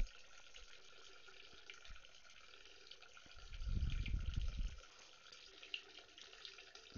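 A person urinates into a toilet, a steady stream of water splashing for about a second and a half mid-clip, picked up close on a HyperX Cloud Flight S headset microphone in an otherwise quiet room.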